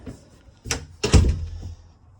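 An interior door on a Martin Cougar 364 travel trailer, mounted on the slide-out, is moved and shut, giving two close knocks, the second a heavier thud.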